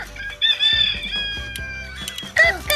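A Luvabella baby doll toy plays a recorded rooster crowing, a loud, clear cock-a-doodle-doo followed by clucking, close up with small handling noises.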